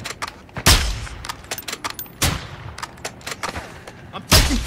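Gunfire in the video game Call of Duty DMZ: several sharp, loud shots at irregular intervals, some single and some in short bursts, with quieter crackling shots between them.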